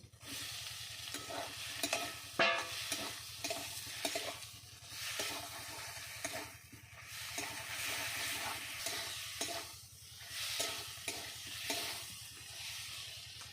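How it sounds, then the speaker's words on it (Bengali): Fried potatoes stirred into a sizzling spice paste for a thin pabda fish curry: a soft continuous fry hiss with repeated scraping strokes of a spoon, fairly quiet throughout. "মশলাটা কষানো হয়ে গেছে এখন আমি দিয়ে দেবো ভেজে রাখা আলু"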